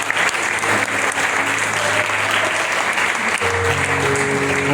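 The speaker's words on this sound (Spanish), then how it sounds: "¿Cuánto dan ese aplauso al Rey de Reyes?" A church congregation applauds in a dense, sustained burst, with organ or keyboard tones sounding beneath and a preacher speaking briefly over it.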